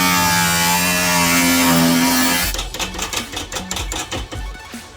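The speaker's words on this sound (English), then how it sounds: "we're just going to cut that entire piece out" A power cutting tool slices out a section of car body panel: a loud, steady whining drone for a couple of seconds, then a choppy run of rapid rattling bursts as the cut continues.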